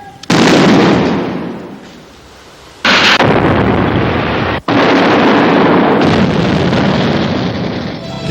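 A controlled bomb disposal detonation goes off with a sudden, very loud blast whose roar rumbles and fades, then surges again in a sustained, violent burst with a brief dropout before continuing at full force.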